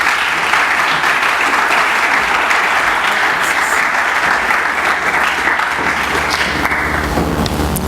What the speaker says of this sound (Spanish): Recibamos con un fuerte aplauso al doctor José Manuel Orozco Garibay